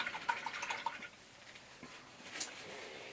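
A paintbrush rinsed in a small container of water during a turtle painting, heard as soft close sloshing and dripping splashes at the start that settle into a faint trickle and a few quiet drips, with no talking.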